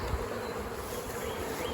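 Honeybees buzzing around a hive, a dense steady hum of many bees close by, continuous and even for under two seconds.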